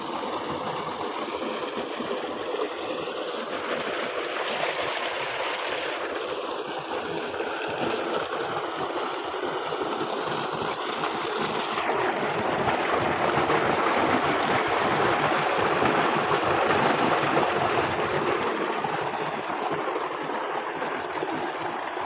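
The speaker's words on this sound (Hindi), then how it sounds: "माशाअल्लाह ट्यूबवेल चल रहा लेकिन अज पानी उस साइड वाल जा रहा है।" A running tubewell pump engine hums steadily beside a strong, continuous rush of flowing water, loud and close for the whole stretch, with no talking.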